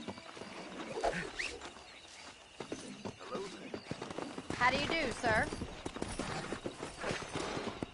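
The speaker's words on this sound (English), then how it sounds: "That ranch hand said there's a pack of wild horses nearby." Wild horses in the video game Red Dead Redemption, with clopping hooves and a whinny or neigh over scattered game ambience, heard alongside a brief spoken greeting.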